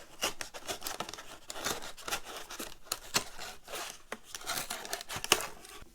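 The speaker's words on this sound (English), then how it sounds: "Where my mark is, I'm just going to cut that tube in half" Scissors cutting a paper tube in half for a papier-mâché pumpkin reaper, a rapid, uneven run of close crisp snips and rustling paper crinkles with no talking.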